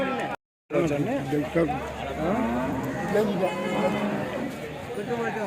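Cows low amid the steady chatter of buyers and sellers at the Gorantla weekly cattle market, where HF dairy cows are traded. A loud voice talks close by throughout.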